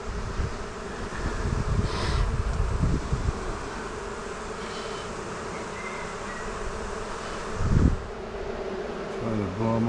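Honeybees hum steadily around an open hive during a first inspection, a dense, continuous drone close by, with a few louder passes and brief handling knocks.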